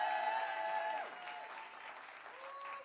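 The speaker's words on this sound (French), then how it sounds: "Je voudrais surtout qu'on fasse aussi une ovation grâce à cette personne pour qui je suis là, Tony" An audience at a hip hop breakdance battle claps in an ovation, a dense burst of applause that fades slightly while a musical tone slides down behind it.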